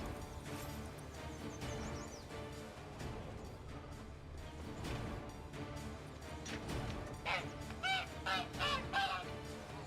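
A caged goose in The Witcher 3 gives a run of sharp, repeated honks, loudest toward the end, over a dense bed of game music and ambient sound.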